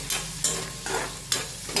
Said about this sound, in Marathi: नेहमीप्रमाणे याच्यामध्ये हळद घालूया